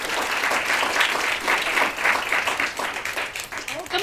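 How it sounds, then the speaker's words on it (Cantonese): Audience applause fills a Hong Kong school debate exhibition match between La Salle College and Diocesan Boys' School, steady dense clapping sustained throughout, close and fairly loud with crowd noise. "我哋俾多啲掌聲佢哋先。"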